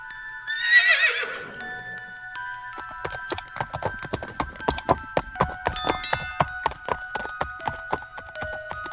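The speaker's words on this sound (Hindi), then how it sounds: "वह जादुई घोड़ा राजेंद्र को दोबारा अपनी जादुई दुनिया में ले जाता है" A magical horse in an animated story gives a loud, shrill whinny. It is followed by a long run of rhythmic clip-clopping hoofbeats with bright jingling tones layered over the galloping.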